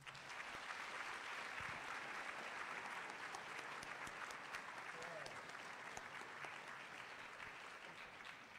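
An audience gives steady, sustained applause welcoming author Jonathan Kozol, an even wash of clapping from a large crowd heard somewhat distant and lasting throughout.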